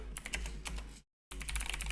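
Brisk typing on a computer keyboard, close and clattery with dense key clicks, broken by a brief moment of complete silence midway before the keystrokes resume.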